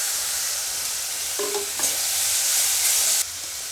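Spiced tomato masala with cumin, coriander and red chilli powder fries in a pan for prawn malai curry, a steady broadband sizzle with a few stirring scrapes and a louder burst of frying toward the end.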